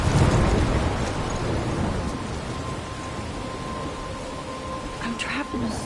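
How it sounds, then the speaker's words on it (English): A rainy thunderstorm in the video game Life is Strange: dense steady hiss of rain with low rumbling thunder, loudest at the start, plus a brief voice near the end. "I'm trapped in a storm?"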